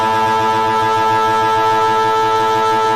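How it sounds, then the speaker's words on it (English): A loud three-quarter time siren sounds at a VFL Australian football match between Werribee and Northern Bullants, a single sustained, unbroken tone that holds steady throughout. "on the 3/4 time siren"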